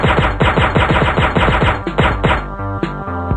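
Rapid bursts of gunfire in the video game Intervention, loud and close, firing in quick repeated volleys before a few scattered final shots.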